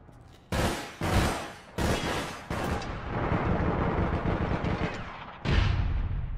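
Gunfire from a firefight over an objective in the online shooter APB Reloaded: several loud, sharp bursts of shots in quick succession, then a longer rolling volley and a final burst, no voices.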